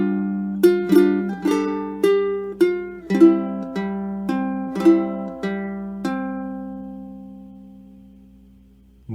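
Whispering Hope's second bar fingerpicked slowly on a ukulele: clear plucked notes and chords ring out one after another in an unhurried rhythm, each decaying naturally, with the last chord fading out alone.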